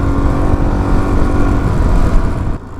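A Suzuki DRZ400 E motorcycle engine drones loud and steady at full throttle while riding through sand, a dense continuous roar that drops away abruptly near the end.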